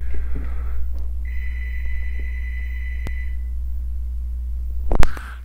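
A telephone rings near a computer during a Microstation drafting lesson: one sustained electronic tone for about two seconds over a low hum, then a brief sharp knock near the end.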